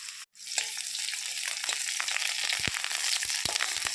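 Chopped onions sizzle and crackle steadily in hot oil on a gas stove after a short silence at the start, with scattered pops and scraping throughout and no talking.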